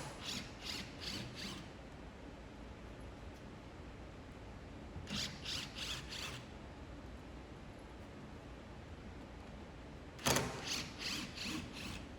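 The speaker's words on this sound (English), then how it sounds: "Using a T-25 or T-20 Torx bit, remove the 4 screws that hold the end frame to the skid base" A Torx T-25 or T-20 bit backs out screws holding an equipment end frame to its skid base, giving three short bursts of quick ratcheting clicks separated by quiet, fairly faint and close.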